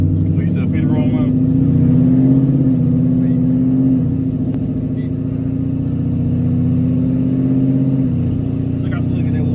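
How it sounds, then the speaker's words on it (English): Gutted 10-speed Ford Mustang downshifting and accelerating hard, a loud steady engine drone rising in pitch inside the cabin, with people talking over it. "All I gotta do is downshift and smash it."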